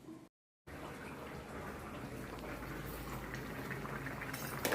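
Curry bubbling in a pot, a steady close simmering hiss with fine popping bubbles after a brief silent gap, holding at an even level throughout.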